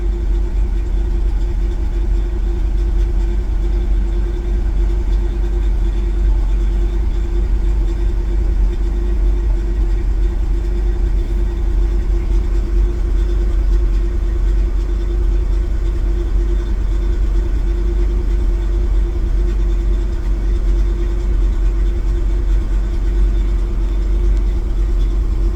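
A car engine idles steadily with a low, even rumble and a faint tonal hum. Any hunting or misfiring is not plainly audible; the drone stays loud and constant throughout.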